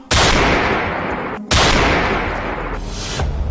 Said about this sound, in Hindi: गोलियों की तड़तड़ाहट से थर्रा उठी राजधानी।